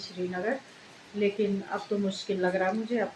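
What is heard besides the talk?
No everyday noises stand out.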